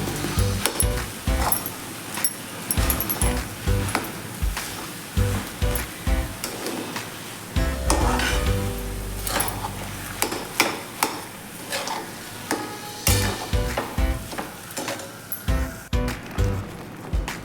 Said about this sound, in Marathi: हा गुळ आता आपण यामध्ये व्यवस्थित मिक्स करून घेऊया